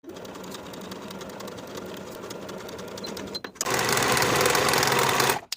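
A sewing machine stitches bodice side seams on a top, a steady motor hum with rapid needle rattle, pausing briefly and then resuming louder and faster.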